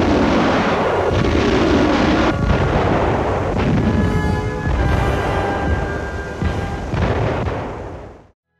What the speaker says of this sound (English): A battery of Panzerwerfer is quickly moved up, and within seconds launches a devastating rocket barrage deep into the enemy lines